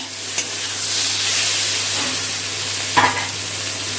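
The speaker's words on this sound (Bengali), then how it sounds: "মশলাটা ভালো করে কষিয়ে দিয়েছি" Spice paste for a mourola small-fish curry sizzles steadily in a hot pan, with a constant hiss and two brief scraping strokes of stirring, close and moderately loud with no talking.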